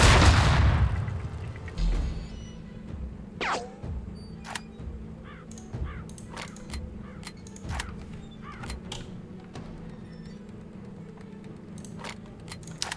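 A flashbang goes off in the game Tastee: Lethal Tactics as a loud opening boom that fades away. A scatter of sharp clicks and cracks, like gunfire and interface taps, follows over a low background hum.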